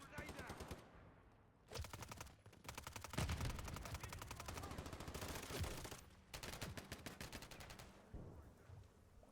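Rapid bursts of gunfire in a video game, fired by a decoy grenade that fakes shots, crackle in repeated volleys with short gaps, close and dense, over faint background game noise.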